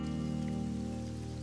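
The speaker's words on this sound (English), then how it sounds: "It's raining." Rain falling steadily on surfaces, a dense even hiss with a low tonal hum throughout, no voices.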